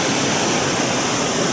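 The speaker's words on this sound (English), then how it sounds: "It's an awesome little waterfall, well built up." Hanging Lake waterfall in Colorado roars as a steady, dense wash of falling water, close and loud, with no other sounds over it.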